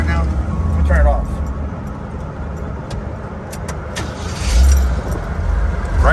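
A 1976 Jeep CJ7 engine rumbles at idle, is switched off into a quieter stretch with jangling keys, then cranks and catches again, its low idle returning near the end while people talk.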